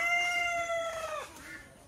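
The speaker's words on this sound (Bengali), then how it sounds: "এই হচ্ছে দেশি মোরগের তেজ" A native village rooster crows once, loud and close, a long strained call that trails off.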